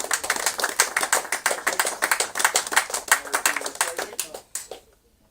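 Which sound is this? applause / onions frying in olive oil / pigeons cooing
applause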